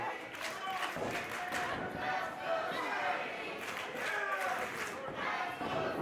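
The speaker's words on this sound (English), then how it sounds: "Magnum Militia cheering Sadie on." A wrestling crowd at an indoor match cheers and shouts for Sadie Belle, a continuous roar of voices with scattered yells and claps, heard close and with commentary-like speech mixed in.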